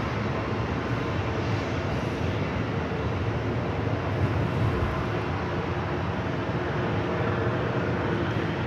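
A continuous broad jet roar from aircraft at LAX airport, where a Delta 767-400ER pushes back from Terminal 3, steady and fairly loud with no clear rise or fall.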